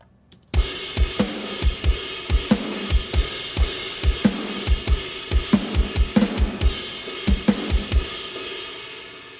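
A sampled drum kit, triggered from MIDI in Superior Drummer, plays alone: punchy kicks and snare hits land in a steady, driving pattern with cymbals washing over the top, clean and close.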